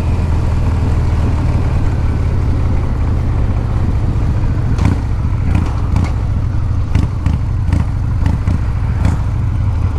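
A 1982 Harley-Davidson FXR Shovelhead with a five-speed gearbox rumbles steadily as it is ridden, its deep loping engine note constant and close, with scattered sharp clicks and rattles in the later seconds.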